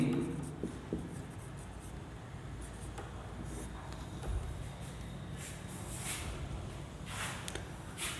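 Chalk or marker strokes on a classroom board during a chemistry lesson, soft quiet scratches and taps spread across several seconds over low room noise, with no clear talking.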